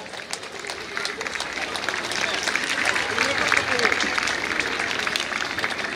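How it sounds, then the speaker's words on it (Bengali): An audience at an inter-school band competition in Tripura keeps up sustained clapping for the whole stretch, a dense, even wash of applause with voices mixed in among the crowd. "একটা করতালি সকলের কাছ থেকে।"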